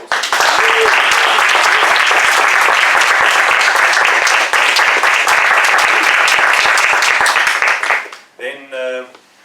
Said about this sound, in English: So please can everyone give them a round of applause.